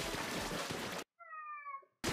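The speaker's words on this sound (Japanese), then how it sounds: "猫も来た" A cat meowing in Splatoon 2, one short rising meow heard alone in a gap between stretches of loud game noise.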